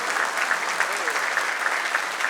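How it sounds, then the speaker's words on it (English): An audience applauds a speaker at a print summit talk, a steady, even wash of many hands clapping throughout with no break. "Big round of applause for Mr. Murti."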